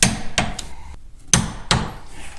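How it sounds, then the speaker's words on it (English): A torque wrench tightens brake caliper bracket bolts on the rear hub of a 1996–2002 Dodge Viper, giving four sharp metallic clicks at uneven intervals, each close and crisp with a short ring. "So we got our torque wrench set. Let's get those tight."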